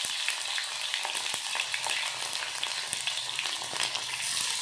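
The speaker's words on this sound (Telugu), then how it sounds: "ఆయిల్ కాగింది, పోపు దినుసులు వేసుకుంటున్నా." Garlic frying in hot oil with tempering spices for a gongura-style dal, a close, continuous crackling sizzle with scattered sharp pops throughout, no voices.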